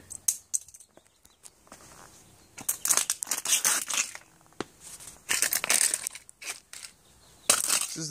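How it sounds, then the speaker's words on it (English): A car amplifier from a white van scam being smashed and crushed up close, with loud irregular cracks, crunches and crinkling bursts separated by short pauses, and a voice speaking briefly between blows. "This is the first time I've smashed anything I've bought with my own money."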